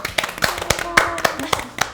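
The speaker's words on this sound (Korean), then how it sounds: "우리 박수 한번 치고 시작할까요?" A small group of hospital nurses clap together indoors in brisk, uneven claps, some voices mixed in among the hands.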